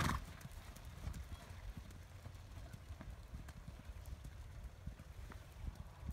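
Horse hooves cantering in a steady, rolling clip-clop rhythm throughout, moderately close and continuous, with faint background ambience and a brief snort or whinny-like noise near the start.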